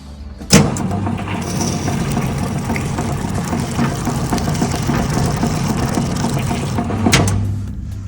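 STvega VML H150 peeling machine running its third pass on a pumpkin, a steady mechanical whir and rattle with a sharp clack near the start and another near the end, no talking.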